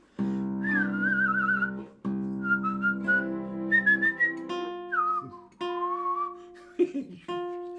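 A person whistles a lively Viennese folk tune in long, clear, sustained notes and quick melodic runs, close and loud, with no other sound.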